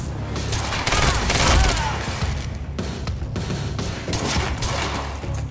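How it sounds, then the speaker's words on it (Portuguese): Gunfire from a third-person shooter game, Quantum Break, as enemy forces open fire: dense, continuous bursts of shots and heavy thuds layered over loud game sound for the whole stretch. "Monarch está atirando na gente, porra."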